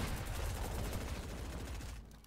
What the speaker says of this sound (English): one kid shooting a fucking minigun